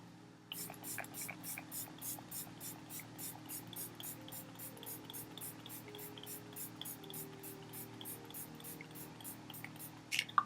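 A makeup setting spray mister hisses in a rapid, even series of short pumps, close and fairly quiet, continuing steadily for about ten seconds.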